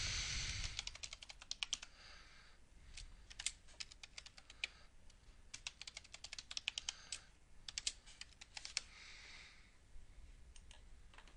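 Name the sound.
typing a password on a computer keyboard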